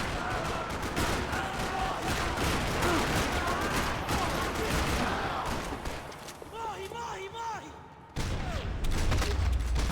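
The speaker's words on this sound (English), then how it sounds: "Another parking lot rattling with gunfire." Gunfire crackles through a parking lot in the Max Payne 3 video game, with dense bursts of rapid shots and booms, then a pause as someone speaks and the shooting resumes.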